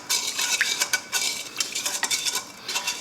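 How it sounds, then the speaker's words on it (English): A yeast and sugar mixture gets a quick stir, a spoon scraping and clinking against the bowl in a brisk run of short, bright strokes, close and fairly loud, with no talking. "once you add your sugar in there, now give it a quick stir"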